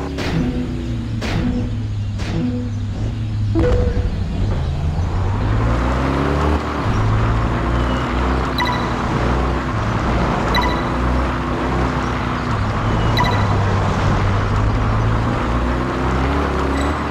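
A car engine roars through off-road driving in the racing game Test Drive Unlimited 2, loud and continuous, its pitch climbing and dropping as the gears shift, with a few sharp clicks early on and no voices.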